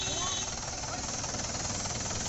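A Mahindra 475 DI tractor engine runs during an unloading job, a loud, steady, close diesel rumble with a dense clattering texture that holds without a break.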